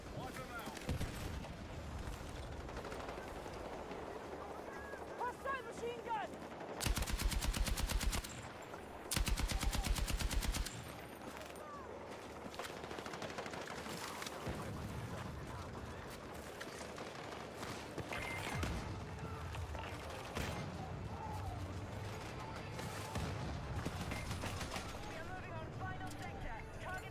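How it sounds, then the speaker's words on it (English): Hostile machine gun fire in Battlefield 6 multiplayer: two dense bursts of rapid automatic shots stand out loudly over continuous battle ambience with scattered distant gunfire, while a voice talks intermittently throughout. "Hostile machine gun!"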